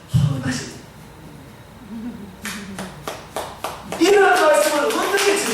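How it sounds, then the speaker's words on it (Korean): A church congregation claps during a Korean sermon, scattered claps building into a louder burst of clapping mixed with voices near the end, after quieter moments with a few sharp taps. "박수 치고"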